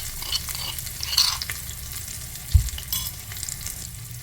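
Small shallots and crushed country garlic fry in a pan, giving a soft, steady sizzle with a few stirring scrapes and one brief knock, without any talk.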